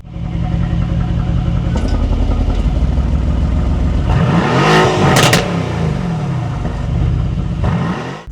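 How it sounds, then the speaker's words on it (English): A 2018 Mercedes-AMG GT-R with a louder exhaust system revs loudly and close, a sustained engine roar that climbs and swells in pitch near the middle before settling back, with no talking. "I decided to go with a 2018 with the louder exhaust system"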